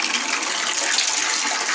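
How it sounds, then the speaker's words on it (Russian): Water gushes steadily from the hot side of a builder's mixer tap, a continuous broadband hiss close by with no talk over it. "Кран горячий."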